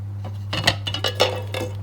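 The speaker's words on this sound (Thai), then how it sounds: "พี่แอนดี้ล้างถ้วยล้างชาม" Cups and bowls clink and knock together during washing, a few sharp ceramic clatters in an irregular rhythm, close and clear over a steady low hum.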